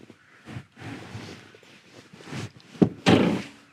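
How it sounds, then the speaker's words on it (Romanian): Rear bench seat of a SEAT Tarraco 2023 sliding on its rails, giving a few hard clunks and thuds near the end over a dull background of rustling and movement inside the car. "dă scaunul în față și în spate"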